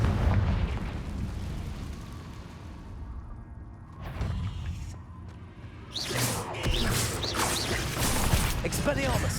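Confringo fire-blast spell cast in the Hogwarts Legacy video game, a burst of bright crackling explosions and whooshes rising after a quieter stretch, layered over game sound and mechanical rumble.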